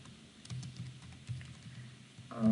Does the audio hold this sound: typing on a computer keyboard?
yes